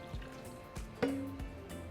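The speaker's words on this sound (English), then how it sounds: "So now we're going to transfer everything into our blender cup" Cooked tomatoes, chiles and their juices are tipped into a blender cup, giving soft, faint wet plops and drips spaced about every half second in a quiet kitchen, with no talking.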